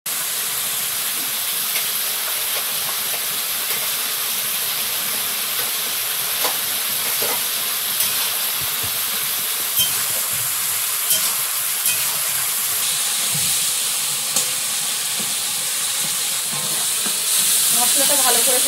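Fish cooks in a pan with potato, eggplant and spices, a steady bright sizzle and hiss with occasional faint clinks and stirring sounds throughout.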